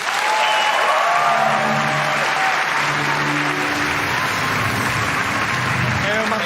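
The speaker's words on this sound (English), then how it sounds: "Please give a warm applause to Marc-Alexis Côté" Sustained applause from a large audience at the Ubisoft E3 2019 press conference, a dense, steady wash of clapping and crowd noise that stays loud and even for the whole stretch.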